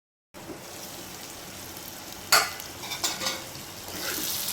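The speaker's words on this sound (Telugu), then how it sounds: "పసుపు వాసన పోవాలంటే కొద్దిసేపు ఆయిల్లో అది వేగాలి." Turmeric fries in hot oil for a brinjal curry, giving a soft, steady sizzle with a few sharp clinks and scrapes of a spoon against the pan.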